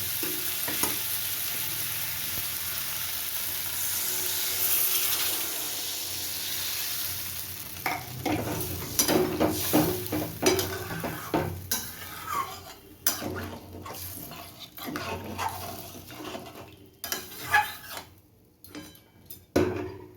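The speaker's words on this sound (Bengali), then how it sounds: "এবার আমি এর মধ্যে জল দিয়ে দেবো" Fried spice paste for a potato and parshe fish curry sizzles steadily, then water goes in and the sizzle changes as a utensil stirs and scrapes the pan in repeated, irregular clanks.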